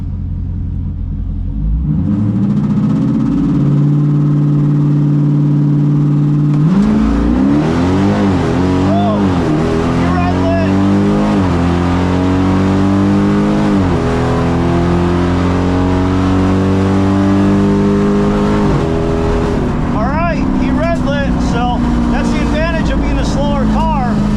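A 392 Hemi drag car launches down a drag strip, its V8 idling loud and close before roaring into a hard full-throttle run that climbs through repeated gear changes, steady and dominant over the whole stretch.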